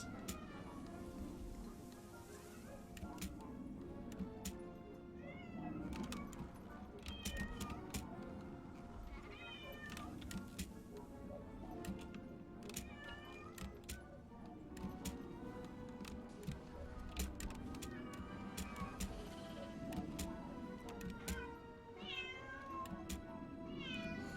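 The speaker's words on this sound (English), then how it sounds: "Very insistent kitty." A cat meows insistently, with repeated calls at irregular intervals heard faintly from a couple of rooms away beneath a low steady background hum.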